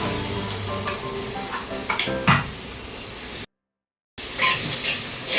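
A halved green chili sautés in hot oil, giving a close, steady sizzle with a few soft pot clinks; the sizzle cuts out briefly partway through, then picks up again.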